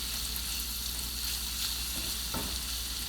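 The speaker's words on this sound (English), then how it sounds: "we stir fry everything together, the mushroom mixture and the tenderloin" Steady, loud sizzling of steak tenderloin and mushrooms stir frying in a pan on medium heat, with a brief scrape of stirring partway through.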